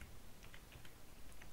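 Soft, faint typing on a computer keyboard, a handful of light, irregular key taps over a steady background hiss.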